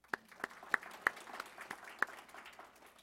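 A small audience at an indoor community event claps sparsely, with a few distinct hand claps standing out over a soft, scattered patter at a moderate distance.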